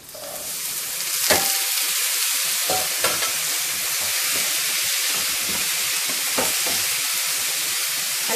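Black-eyed peas tipped into a hot pot with cumin and red pepper, setting off a loud, sustained sizzle and hiss with a few sharp stirring knocks.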